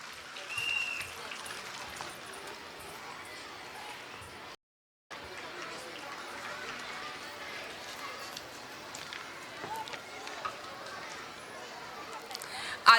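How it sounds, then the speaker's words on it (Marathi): An audience at a primary school's annual gathering and prize-giving applauds to welcome guests. The clapping is moderate and continuous beneath background chatter, breaks off in a short silence, then resumes, with a louder burst at the end. "टाळ्यांचा प्रतिसाद आला पाहिजे"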